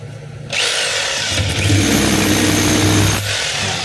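A DeWalt D25133 rotary hammer runs in hammer mode, starting abruptly with a loud, close, continuous percussive whine that holds steady for about three seconds before easing slightly.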